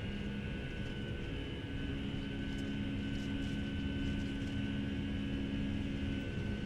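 Boeing 757 engines spool up during a takeoff roll in a flight simulator game, a steady, loud, unbroken jet roar with a deep low rumble and a thin high whine running throughout, no voices.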